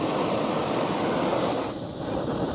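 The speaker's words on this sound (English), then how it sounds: "Turn the stove on." A backpacking stove burns in Uwharrie National Forest with a steady, close, loud roaring hiss that holds evenly throughout, with no talk over it.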